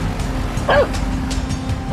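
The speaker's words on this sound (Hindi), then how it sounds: "क्यों भौंके जा रहा है इतनी देर से यार?" One short, close dog bark rings out once over a steady, noisy indoor background, with no other barks following.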